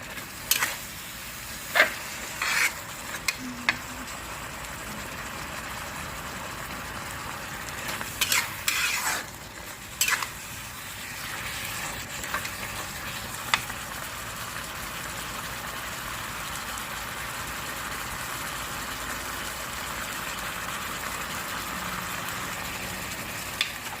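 Thai curry paste being stir-fried in a pan, a continuous close sizzle and frying hiss with clattering utensil strokes clustered early on, then a steadier frying roar with no talking.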